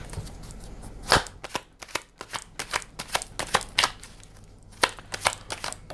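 Tarot cards riffle and snap in repeated shuffling bursts, close and crisp, with sharp slaps at irregular intervals and no talking.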